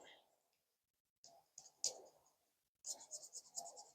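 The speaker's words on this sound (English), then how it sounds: "So I'm just burnishing this down so it will transfer." A tool burnishes an image transfer down onto resin, making faint, close scratchy rubbing strokes in short bursts separated by silence.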